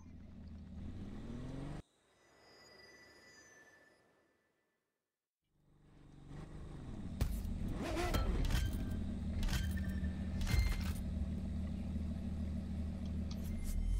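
Lotus Evora engine in The Crew 2, first a steady drone that cuts out abruptly, then a quiet gap before the engine returns loud with revving surges and sustained roar.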